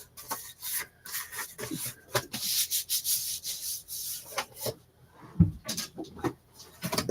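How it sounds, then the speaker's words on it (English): Paper being trimmed for a craft project, heard as repeated scraping, rubbing cuts close by, in uneven strokes with short pauses and a sharper snip near the end, no talking. "So let me trim this."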